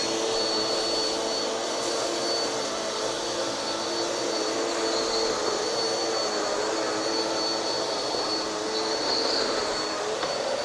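A Bissell 2252 CleanView Swivel Pet upright vacuum runs steadily on a hardwood floor, its motor a loud, constant whirring roar with a faint high whine throughout, and nobody speaking.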